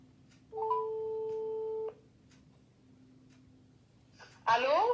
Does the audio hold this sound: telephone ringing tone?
yes